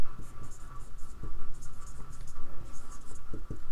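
Pen or pencil writing on paper at close range, a steady scratchy stroking with short pauses and taps as math solutions are written down.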